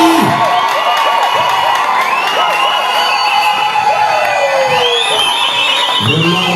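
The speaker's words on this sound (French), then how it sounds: "Acclamez un peu très fort." A church congregation cheers loudly at a Friday service, a dense close crowd of shouts, whoops and high excited voices rising together with a few scattered claps, sustained throughout.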